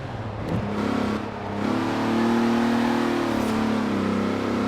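A 1970s car in the Forza Horizon 4 racing game revs its engine, a steady droning hum that climbs and holds at higher pitch, loud and close with no voices.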